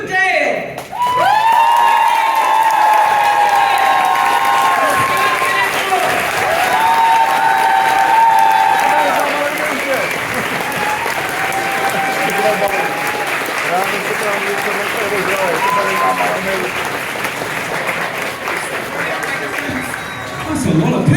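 A comedy club audience in Brno applauds and cheers to welcome a comedian, a sustained full roar of clapping with whoops and a voice carrying over the crowd.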